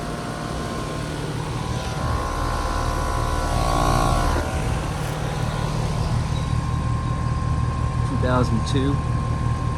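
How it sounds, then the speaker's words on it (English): A 2002 Ruud Achiever 3.5-ton heat pump with a new Arrco compressor running in cool mode after repairs, giving a steady, loud droning hum with fan whoosh throughout while someone talks over it. "This unit has a new compressor in it."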